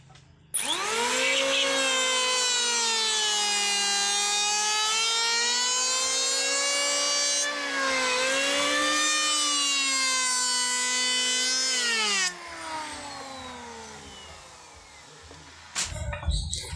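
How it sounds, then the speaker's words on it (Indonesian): An electric wood planer runs in a long, loud, steady whine as it is pushed along a wooden board, with the pitch sagging slightly under load, then a brief dip and a second pass before it winds down. "Jadi kuncinya ada di kedalaman dan pendorongan mesin serut."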